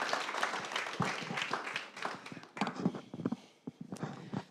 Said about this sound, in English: give a big, big round of applause for Hugo Slim and Nisreen El Saim for this inspiring kickoff